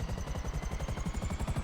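Armed Buzzard attack helicopter from GTA Online spinning up, a steady rapid rotor chop over a low engine drone with a faint turbine whine, close and continuous without any talk.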